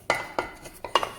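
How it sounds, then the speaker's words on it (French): Choux pastry dough for éclairs stirred in a saucepan, with a few light clinks and scrapes of a utensil against the pan in a quiet kitchen. "Je mélange un peu."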